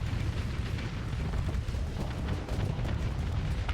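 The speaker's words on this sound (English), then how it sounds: "Now we want to send in the hurricanes and the torpedoes." Missiles and torpedoes striking a station in the space combat game Starsector, a dense, continuous rumble of explosions and impacts, loud and unbroken throughout, with no talk over it.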